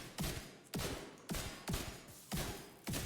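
Scorpio shotgun in The Division 2 firing six heavy booming shots at a slow, even pace, each a loud close blast with a short decaying tail, no voices over them.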